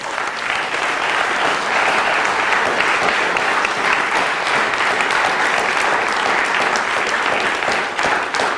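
Sustained, loud applause from a university lecture audience, a dense, even roar of many hands clapping that holds steady for several seconds without a break.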